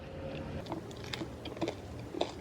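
Close, quiet chewing of a canelé pastry with a crisp crust and chewy inside, heard as a few soft crunchy bites and mouth sounds over about two seconds with no talking.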